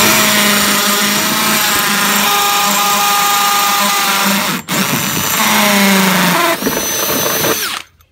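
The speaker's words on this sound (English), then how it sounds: "We got our hole drilled with the hole saw." A hole saw drills through a plastic bucket in two loud, steady whirring bursts separated by a brief pause, the motor humming close and continuous before cutting off at the end.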